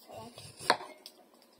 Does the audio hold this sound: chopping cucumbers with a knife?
yes